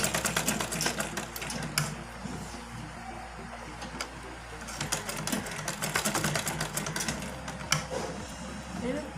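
A sewing machine runs steadily while stitching the drawstring casing of a dhoti salwar, a dense mechanical whir with bursts of faster stitching and occasional clicks, heard up close.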